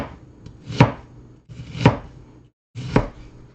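An onion being sliced on a cutting board with a knife: three crisp, evenly spaced chops with a short crunch, each followed by a brief pause, close and clear with no voices.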